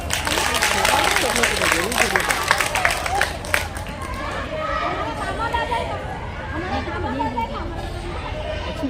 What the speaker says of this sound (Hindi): अगर आप दिल से ताली मारो तो ऊपर हाथ करके जोर से ताली मारो